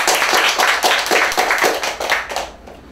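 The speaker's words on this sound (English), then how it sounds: "Come on, the next round of applause." An audience at a CSEC graduation awards ceremony applauds a graduate with close, crisp clapping in a quick uneven rhythm, fading out near the end.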